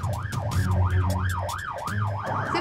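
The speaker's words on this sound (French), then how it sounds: "C'est l'ambulance, elle a réveillé." An ambulance siren wails in a continuous rising-and-falling sweep while stuck in traffic in Haiti, loud and close, over a low engine drone.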